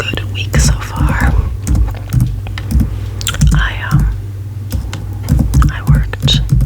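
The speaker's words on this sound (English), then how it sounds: "I'm gonna type something else for a second, a little bit more typing sounds here." Computer keyboard typing in a quiet room, soft clustered key taps in short bursts with pauses, close and gentle, alongside a steady low hum and faint whispered speech.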